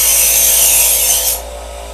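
A kitchen knife is drawn through a Chef's Choice CH/110 electric sharpener, producing a loud, close grinding rasp that holds steady for over a second and then drops to the motor's lower hum.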